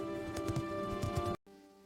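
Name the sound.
horse running fast across a field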